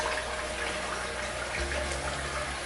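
Steady stream of tap water runs into a sink while a face is rinsed after a wet shave, a constant even hiss at moderate level with no talking.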